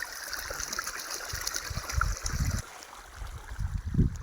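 Irrigation water flowing along a channel into a vegetable field of brinjal plants, a steady close trickling and gurgling stream with a few low splashy surges.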